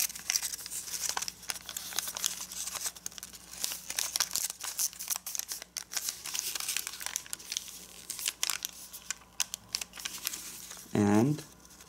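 A sheet of paper is folded into an origami dragon, giving close, busy crinkling and creasing rustles throughout, with a brief voice near the end.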